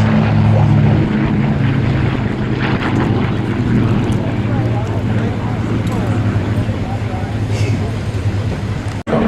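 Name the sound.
P-51 Mustang aircraft flying past at air show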